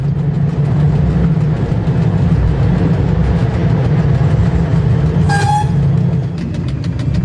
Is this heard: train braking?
yes